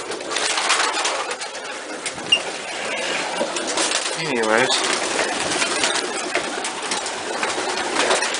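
Pigeons in a loft with grizzle birds, with soft cooing and fluttering under a continuous breezy rustle, and one clearer coo standing out midway while someone talks briefly.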